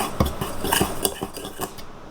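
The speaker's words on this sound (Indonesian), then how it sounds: "Kita aduk rata menggunakan pengaduk yang hook seperti ini ya." A dough hook stirring bread dough of flour, sugar and instant yeast in a bowl, giving a quick series of close metallic clinks and scrapes in an uneven rhythm with no one speaking.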